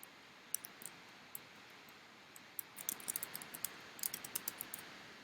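Someone types a username on a computer keyboard, and the keys give faint, close clicks. A few scattered taps come first, then a quicker burst of keystrokes toward the end over a quiet room hiss.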